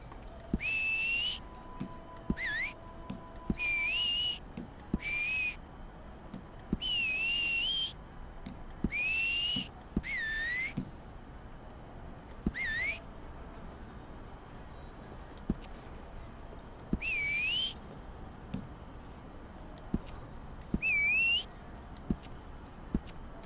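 A character whistling in the online mode of Red Dead Redemption 2, with a dozen or so short rising and falling whistle phrases spaced irregularly over a quiet background with faint clicks.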